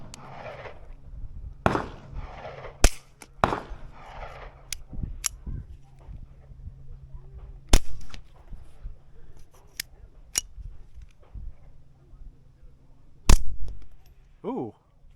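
A Taurus TX22 Compact pistol fired both suppressed and unsuppressed, giving a series of sharp, irregularly spaced shots with quieter clicks and mechanical handling between them and a brief voice near the end.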